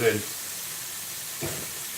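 A pan sizzles steadily while ingredients fry for a Malaysian lamb curry. The hiss is soft and continuous, with a brief louder burst at the start and another stir-like swell midway.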